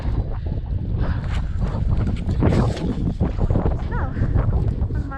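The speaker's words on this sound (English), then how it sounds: "the wind blowing to my back" Strong wind buffets a microphone on a winter drive through the Icelandic Highlands, a loud, steady roaring gust noise with a few speech-like sounds mixed in.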